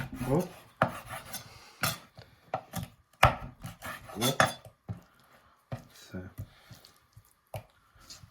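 A knife cuts and trims raw chicken for French chicken in wine, giving irregular close scraping and tapping strokes against a board, with someone talking over part of it.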